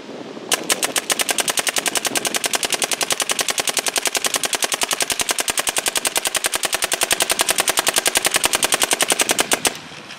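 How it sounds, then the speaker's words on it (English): A Dye M3+ paintball marker fires in a long, rapid, evenly spaced stream of sharp pops, close and loud, for almost ten seconds before abruptly stopping. "Shooting the hopper all the way dry"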